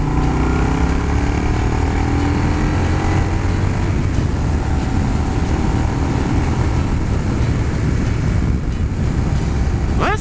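A Yamaha Bulldog motorcycle accelerates, its engine a loud, steady roar that holds close and constant for ten seconds, with wind buffeting the microphone throughout.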